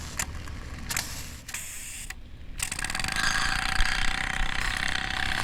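A Stuart ST steam engine runs on a vertical boiler, its speed set by a Roundhouse locomotive-style control, giving a steady close mechanical chuffing and hiss that swells and stays loud after a few brief louder bursts.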